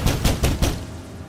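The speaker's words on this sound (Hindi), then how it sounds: "तभी किसी ने दरवाजे पर दस्तक दी" Four evenly spaced knocks on a door in a dark room at night, sharp and fairly loud, each with a short booming ring, then a fading quiet tail with no talking.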